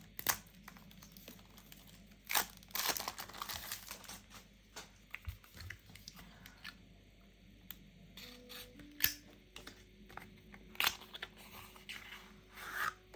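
Packaging on a card deck being unwrapped up close, with soft crinkles, scratchy fiddling and sharp little clicks and snaps scattered irregularly amid quiet pauses.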